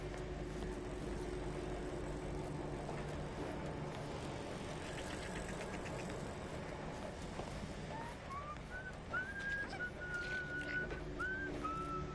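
A faint melodic whistle in the video game Outer Worlds 2 rises in short phrases over a steady low engine-like drone and ambient noise.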